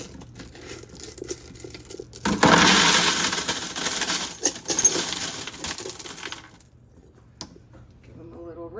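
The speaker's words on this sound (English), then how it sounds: "Polished rocks coming off the Lotto tumbler. This is the batch of teeny rocks." Tiny polished beach rocks tumble out of a Lot-O tumbler in a loud, dense clattering and crinkling rush that lasts several seconds, then thins to a few scattered clicks.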